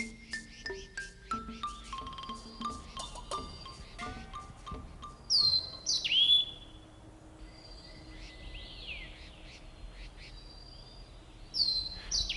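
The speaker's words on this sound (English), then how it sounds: "people often mistake the Taiwan laughing thrush for a squirrel." Bright, whistled calls of a Taiwan laughing thrush ring out in short bursts over a quiet forest background, with a few louder rising phrases near the middle and end.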